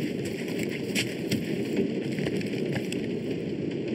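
Rain falling in the Guardians of the Galaxy game, a constant soft patter and spatter of drops on surfaces, moderately quiet, with a few slightly sharper drips standing out.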